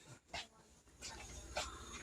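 A dog whimpering and panting indoors, faint short breathy pants and soft whines in a few quick bursts.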